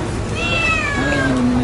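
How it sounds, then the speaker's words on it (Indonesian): A cat gives one drawn-out meow, clear and fairly close, rising then gliding down, over a steady background hum. "Kucing."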